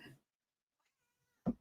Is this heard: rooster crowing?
no